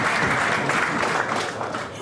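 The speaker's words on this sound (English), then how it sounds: "The crowd just went wild on that." Tournament crowd at a 9-ball pool match applauding a great shot, dense continuous clapping that holds steady and fills the hall, loud and close.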